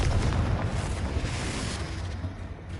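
A spell cast in the Hogwarts Legacy video game erupts into a fiery explosion, a loud broad boom with a rumbling tail that fades over a few seconds, no voices over it.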